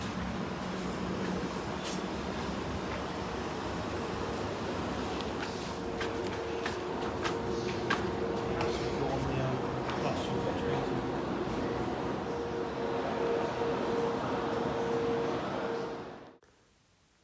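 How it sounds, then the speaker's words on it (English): An Ansaldo Breda/Hitachi metro train rolls into Dinegro station in Genoa, a sustained rumble and wheel screech with brief metallic clicks, steady and close, then cutting off abruptly at the end. "Here is one of the Ansaldo Breda/Hitachi metro trains, which aren't actually that old, arriving into Denegro"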